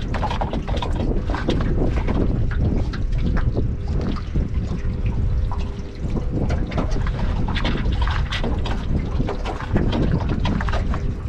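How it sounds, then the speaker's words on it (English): Wind blows steadily over a fishing boat anchored at sea in a southwest wind, producing a loud, continuous rushing roar with gusty buffeting and faint knocks throughout, with no voices. "Wind swung around at the southwest, but which is good, because it's holding us really nice on the anchor"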